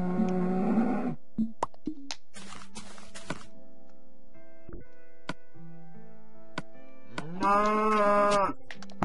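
A cow in the video game Minecraft moos twice, a loud close call at the start and another near the end, with sparse clicks and mechanical ticks in between.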